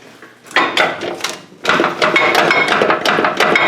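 Hammer blows knock bolts out during repairs on a Land Rover 110 truck, a loud rapid series of metallic strikes in close range, pausing briefly before resuming in quick bursts.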